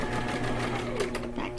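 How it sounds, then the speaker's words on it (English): A sewing machine stitches fabric down in a steady, continuous run at close range, with a voice talking over the whirring motor. "sew it down"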